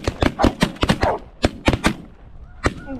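Shotguns fire during a goose hunt in extreme wind, about a dozen sharp close blasts in quick irregular bursts, with a lone shot after a brief pause.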